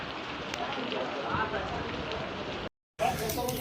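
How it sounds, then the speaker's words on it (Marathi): Dense, steady rain hisses across surfaces at the Swami Samarth temple in Akkalkot, a loud continuous wash of drops that cuts out briefly and then returns. "पाऊस खूप भयंकर चालू झालेला आहे"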